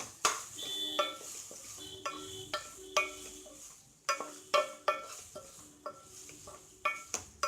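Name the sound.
stirring green chilli keema in a pan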